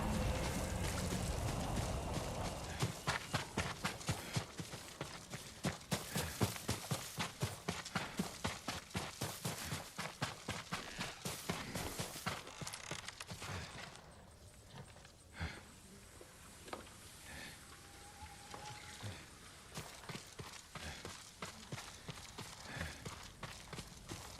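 Hooves of a horse in the video game Ghost of Tsushima clip-clop in a fast, even rhythm, loud and close at first, then slow and fade to scattered steps over a quieter ambient bed.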